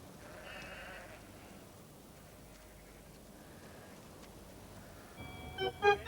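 Sheep being rounded up by a sheepdog give faint, distant bleats over quiet outdoor background, with a brighter, louder tonal burst near the end.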